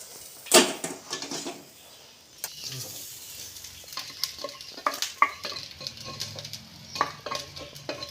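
Grated coconut dry roasts in a pan, giving a soft, faint rustling sizzle with intermittent scraping and clinks of a spoon stirring, plus one louder knock near the start.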